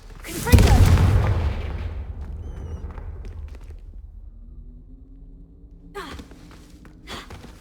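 A Confringo fire spell hits with a loud, close, booming explosion in Hogwarts Legacy. Its rumble decays over a few seconds, and lighter magical whooshes and impacts follow.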